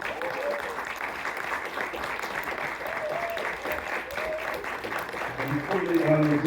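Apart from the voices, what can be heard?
applause for keynote speaker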